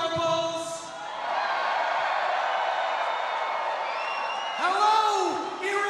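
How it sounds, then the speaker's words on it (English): A massive crowd at a Trump campaign rally at the Venetian Resort in Las Vegas roars with sustained cheering and whoops, a broad continuous wall of noise with a swell of shouts near the end. "So thank you for this massive crowd."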